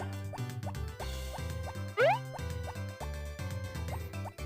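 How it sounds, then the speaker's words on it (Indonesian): Pineapple crops are watered in Harvest Moon Back to Nature, with repeated small, plinky water-drip sound effects over looping game music and one brighter rising chime in the middle. "sekarang nih gue siram nih bagian nanas terakhir nih guys"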